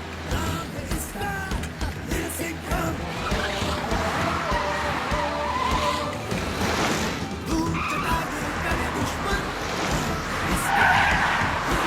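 A cartoon car speeds and skids through a chase in an animated action scene, with loud, continuous engine and tire-squeal noise and busy sound effects layered throughout.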